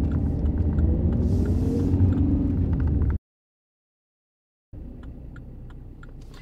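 A car's turn-signal indicator ticks steadily inside the cabin during a driving lesson, under a constant low engine and road rumble. The sound cuts out completely for about a second and a half midway, then the rumble resumes.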